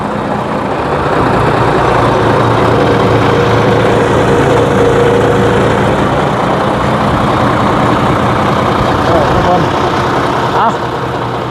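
A Hino twin-turbo truck engine runs at a steady, loud, deep rumble for about eleven seconds, close by, without revving up or down.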